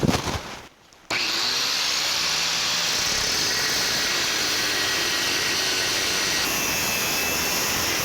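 Slots cut into a fuel pipe for a 1949 Chevrolet gasser, a steady loud grinding cut running continuously after a brief pause, close and alone.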